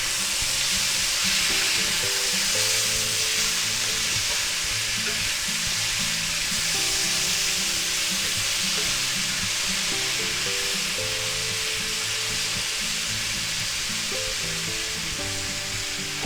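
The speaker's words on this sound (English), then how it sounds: "Now we're going to go ahead and add about a tablespoon of garlic." Garlic sizzles in a frying pan for a spaghetti, sausage and egg stir-fry, a loud continuous hiss and crackle that holds steady throughout, with soft background music and no talk.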